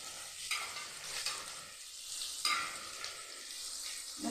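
Chopped onions, added a little at a time for a Kerala-style onion thoran, frying in a pan with steady soft sizzling and a few spoon-scrape stirs and taps, close by and with no talking.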